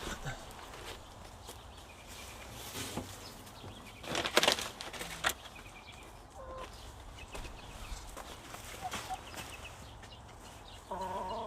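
Backyard chickens cluck and scratch about in a San Diego garden, soft intermittent clucks with a louder burst midway and some footstep-like rustling, with little talk.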